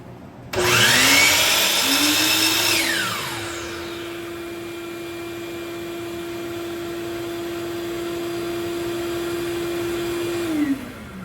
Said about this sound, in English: I'm going to start up the saw really quick, and you're going to see that the vacuum turns on.